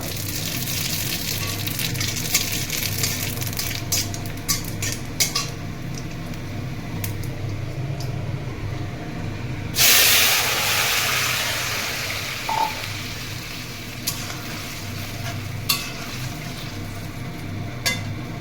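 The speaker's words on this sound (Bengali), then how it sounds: "ফোড়নের তেল গরম হয়ে গেছে, এবার এই রাঁধুনি ফোড়ন দিয়ে দেব।" Radhuni spice tempering dropped into hot oil for a radish and puti fish curry, giving a sudden sharp sizzling burst midway through, then fading back into a low steady kitchen hum with a few faint clicks.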